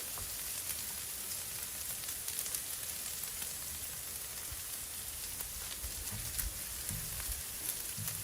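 Eggs fry on a hot Blackstone flat-top griddle alongside potatoes and bacon, giving a steady, fairly quiet hiss and crackle with faint scattered pops and no voices.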